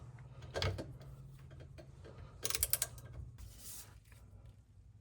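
A torque wrench tightens a bolt on the rear differential of a 2014-2018 Subaru Forester, giving a few close metallic ratcheting clicks and a sharp burst of clicking partway through, set against a faint low hum.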